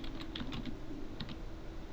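Fast, light tapping on a computer keyboard while typing a MySQL command in a DOSBox console, a quiet continuous run of clicks with no voices.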